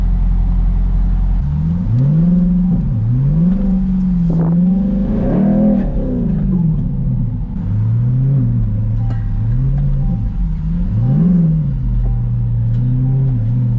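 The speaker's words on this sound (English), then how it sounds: "Say we start out today with just a little bit of donut action though." A car spins donuts with traction control switched off, its engine droning loudly and steadily while the revs rise and fall in repeated swells across the whole stretch.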